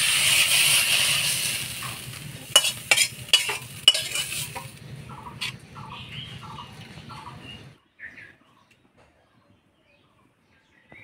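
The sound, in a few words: stirring and frying dhenki greens in a pan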